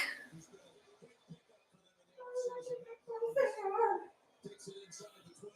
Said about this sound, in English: And the dog, but you heard dog sounds before.